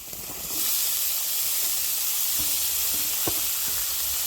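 Banana blossom dropped into hot oil with spices, a sudden loud sizzle and hiss that starts abruptly and holds steady, with faint clicks of stirring underneath.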